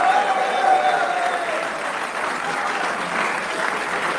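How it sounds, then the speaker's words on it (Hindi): Studio audience claps for Shadab's excellent performance during a cricket reaction show, a thick, even wash of many hands that carries on without a break from start to finish. "आला कारकर्दगी पे शादाब के लिए भी तालियां होनी चाहिए।"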